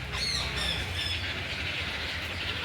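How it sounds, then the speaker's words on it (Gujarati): Large ducks at Junagadh's Sakkarbaug Zoo give a few short, high, nasal squawks in quick succession over a constant outdoor background hiss. "આ તો બતક છે મોટા મોટા જો કેવા બતક છે"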